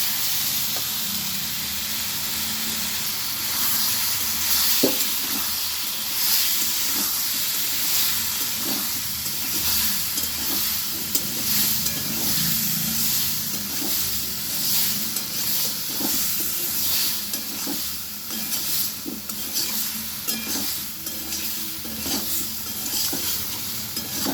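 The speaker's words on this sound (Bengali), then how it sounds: "আমি এবারে টমেটো বাটাটা দিয়ে দিচ্ছি।" Bottle gourd curry sizzles and hisses in a pan as tomato paste goes in, with repeated scraping and stirring taps from a spoon over about twenty seconds, close and steady, with no voices.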